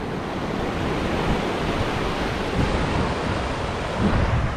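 Arabian Sea waves wash onto the shore at Alappuzha, Kerala, a loud, steady broadband roar of surf with gentle swells and wind noise throughout, no voices.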